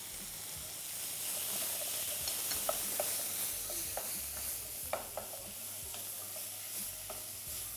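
Beans and miso paste sizzle and fry over medium-high heat, stirred with a utensil that gives scattered scrapes and clicks against the pan under a steady, close frying hiss.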